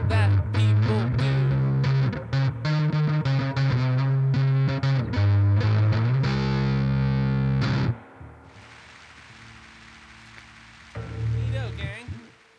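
Electric guitar through a distortion effect plays crunchy, sustained chords and riffs for several seconds. It drops to a quieter noisy stretch, then a final loud strum returns.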